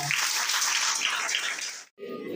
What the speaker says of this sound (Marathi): आपण जोरात टाळ्या वाजवून प्रभूला धन्यवाद देऊया